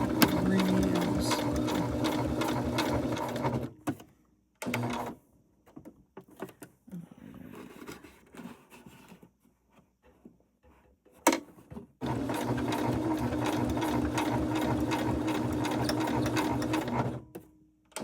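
A sewing machine stitches a bulky rope bowl in two long steady whirring runs, close and loud, separated by a pause filled with quiet handling noises.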